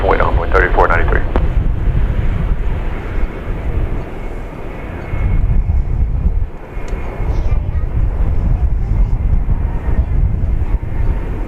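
A domestic Boeing 777 from Miami arrives at DFW Airport, its deep jet rumble roaring steadily under wind buffeting the microphone, with a brief voice at the start.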